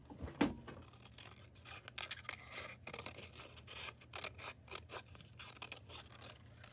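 Scissors snip a bubble cut around a score line in paper, a quiet series of short irregular crisp cuts and rustles, close up and with no speech.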